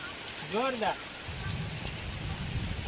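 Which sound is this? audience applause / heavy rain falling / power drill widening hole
heavy rain falling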